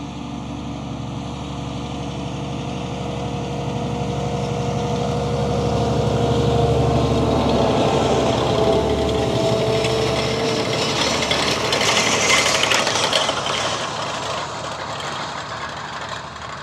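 A Fendt 1038 tractor's heavy diesel engine rumbles loudly and continuously while pulling a Landoll 2116 chisel plow, its drone swelling and easing slightly under load.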